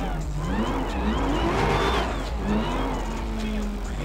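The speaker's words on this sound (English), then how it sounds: "Look at all this traffic." GTA 5 city traffic, a rumble of cars driving and engines revving at moderate distance, with people talking over it throughout.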